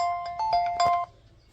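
A mobile phone ringtone sounding for an incoming call: a short, bright melodic tone pattern lasting about a second, then cutting off, heard alone without talk.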